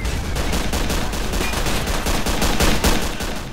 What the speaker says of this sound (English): get the machine guns firing!